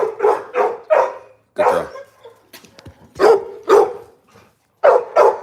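A big dog barks loudly and close, in short repeated bursts with gaps between them, while a person speaks briefly in between.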